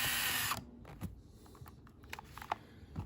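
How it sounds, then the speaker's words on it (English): A small, low-powered electric screwdriver backing screws out of a seat fitting, with a steady whir at first and then short clicks and taps nearby. "it's not a real high-speed screwdriver, but it's good for getting into tight places because it's not very big"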